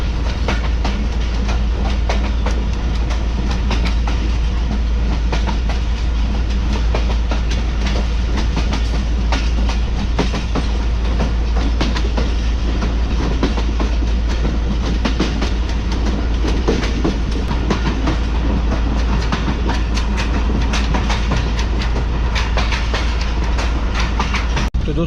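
Mohen Jo Daro passenger train running steadily between Sukkur and Kotri after heavy rain in Sindh, a constant loud rumble with rhythmic wheel clatter heard from inside the carriage throughout.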